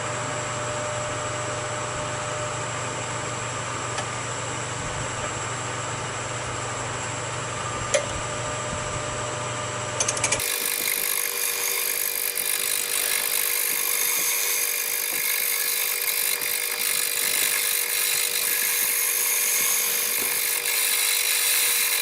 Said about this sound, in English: I'm going to go over it just lightly to round it off and remove the old varnish, the old finish